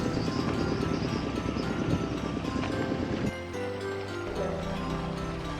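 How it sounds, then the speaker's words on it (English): An irrigation pump at a paddy field in Alor Setar draws river water through large pipes, making a steady, close mechanical drone mixed with wind noise that shifts slightly partway through. "I'm showing you the pump which is pumping water from the adjacent rivers into the paddy field through these large pipes"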